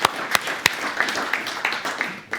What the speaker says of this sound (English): Let's give a big applause to the hosts.